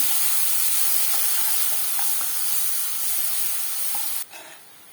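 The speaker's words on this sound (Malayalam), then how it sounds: "എന്നിട്ട് എല്ലാം കൂടെ നന്നായിട്ടൊന്ന് മിക്സ് ചെയ്യുക." Spices with turmeric are stirred in a pan over a low flame, giving a steady close sizzle with faint scraping that suddenly drops away near the end.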